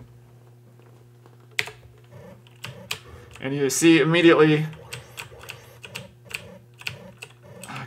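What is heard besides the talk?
computer keyboard keys being pressed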